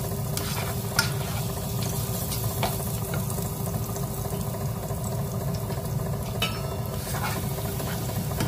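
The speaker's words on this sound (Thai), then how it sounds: "ผัดกระเทียมกับน้ำมันนะก็พริกไทยเนาะ" Garlic stir-fried in hot oil with pepper in a pan, a steady close sizzle with occasional sharp scrapes and knocks of stirring, while preparing chicken soup with morel mushrooms.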